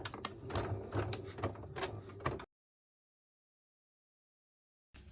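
A sewing machine stitches a fabric wallet in a quick, close, buzzing run of rhythmic needle strokes for about two seconds, then stops into silence before a brief restart at the end.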